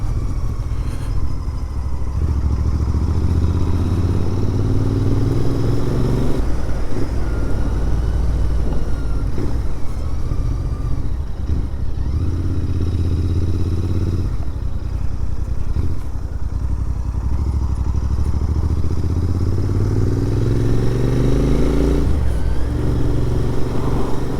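A Royal Enfield Interceptor 650 motorcycle rides on a country loop, its engine a loud continuous rumble that rises and falls as it revs through gears, with wind noise and no speech.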